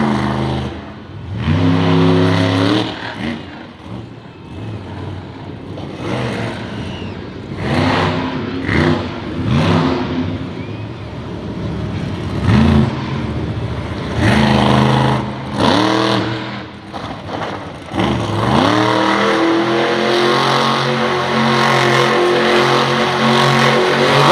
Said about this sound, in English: the wet asphalt is making for some great donuts